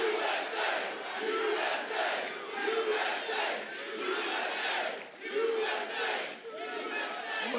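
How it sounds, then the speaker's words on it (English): A large crowd at a political rally cheers and roars continuously, a dense wall of shouting and whooping voices that swells and dips slightly throughout. "Well, this is a nice crowd."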